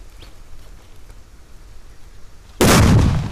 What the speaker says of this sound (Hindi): तो लगाते हैं आग और देखते हैं धमाका